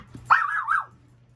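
A puppy lets out a single short yelping bark with a slightly wavering, whiny pitch, moderately close in a quiet indoor room with a low background hum.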